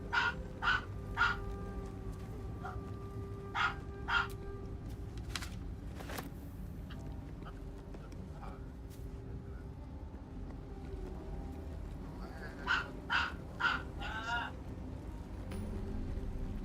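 A dog barks in short bursts of a few sharp yaps, several near the start and another cluster near the end, moderately close over a quiet room background with some low murmuring.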